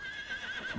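A horse neighs at a ranch in Farming Simulator 25, a short, fairly faint whinny with a wavering, drawn-out tone and a light clop at the very end.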